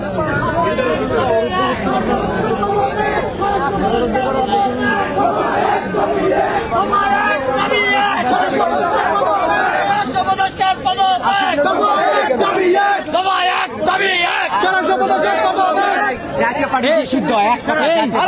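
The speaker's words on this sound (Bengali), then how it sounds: "তারা বিভিন্ন স্লোগান দিচ্ছে" Large outdoor crowd at a protest chanting slogans demanding the arrest of GM Quader, dense overlapping voices and shouts sustained loudly throughout with constant babble.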